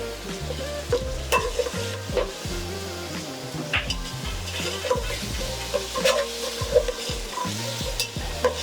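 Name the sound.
gently stirring egg biryani rice cooking in pot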